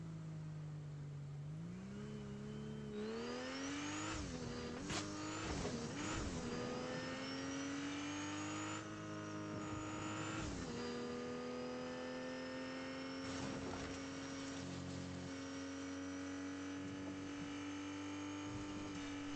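A car driven in the video game Fortnite, with a steady engine drone that rises and shifts in pitch as it accelerates and changes gear, loud and continuous for the whole stretch with no talking.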